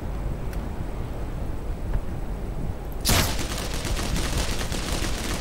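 Gunfire in the Black Mesa video game: a single loud blast erupts after a stretch of steady background noise, followed by a sustained crackling rumble.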